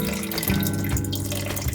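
Water poured into a bowl of mixed bread flours, yeast and salt, making a steady, close splashing stream that runs continuously throughout.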